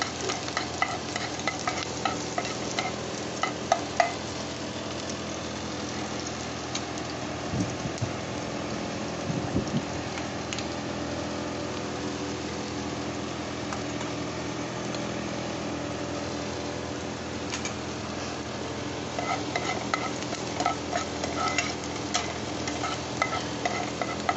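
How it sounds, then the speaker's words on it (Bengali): Finely chopped onion for a chilli fish dish frying in hot oil and being stirred in a pan, a continuous close sizzle with intermittent scraping and knocking of the spoon. "এটা দিয়ে দিচ্ছি দিয়ে এটা নাড়াচাড়া করবো"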